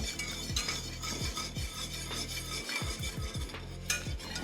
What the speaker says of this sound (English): And stir and just get it to the right thickness